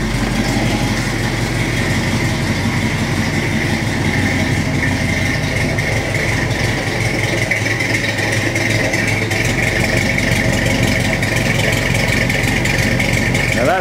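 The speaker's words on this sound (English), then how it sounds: "Now that's the way a muscle car should sound." A 1966 Shelby GT-350 recreation Mustang with a 289 V8 idles steadily nearby, a deep continuous rumble without revving and with no speech.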